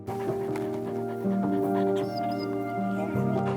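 A shelter dog with PTSD from the Kherson region whimpers and pants in thin, wavering tones, its soft, steady breathing close by throughout.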